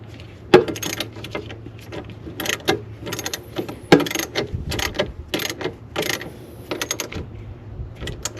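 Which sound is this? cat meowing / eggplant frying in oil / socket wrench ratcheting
socket wrench ratcheting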